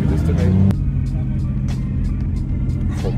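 Cars race past on a road in Japan, a loud, close engine rumble that drops after one passes and settles into a steady traffic drone.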